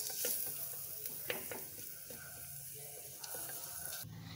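Tomatoes sauté in a pan for pepper rasam, a soft, fairly faint sizzle with occasional scraping stirs and light taps of a spoon.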